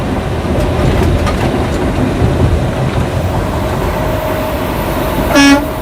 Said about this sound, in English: here comes a big old intermodal train